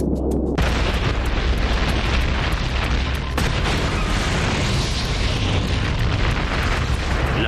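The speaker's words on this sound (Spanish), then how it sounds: "La llenan con vapor de combustible y luego le prenden fuego." A loud, sustained roaring blast after a brief quieter start, a deep rumbling explosion of fuel vapor igniting inside a scale-model fuel tank, thundering for several seconds with crackling bursts.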